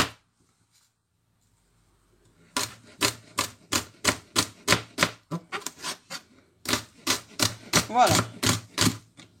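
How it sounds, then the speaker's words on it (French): Knife finely chopping fern leaves (misili) for a Congolese dish, a quick run of crisp, evenly spaced cuts on a board after a quiet start, with a brief spoken word near the beginning. "on coupe très finement, comme ça"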